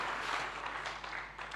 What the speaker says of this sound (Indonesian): Beri tepuk tangan yang dahsyat bagi Tuhan kita.